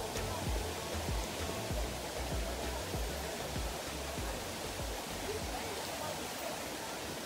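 A creek flows down from the mountain in the El Yunque rain forest of Puerto Rico, a steady, close, broadband rush of water that holds even throughout with no pauses.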